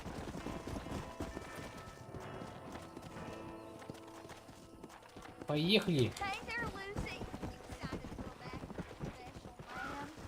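Horse hooves clip-clop steadily in the video game Red Dead Redemption, mixed with game sounds and a brief whinny, while people talk over them.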